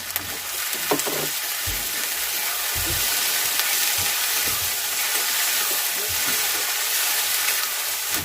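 Raw chopped tomato goes into hot frying masala for a Bengali bata fish jhal, giving a steady close sizzle with a few soft stirring knocks near the start.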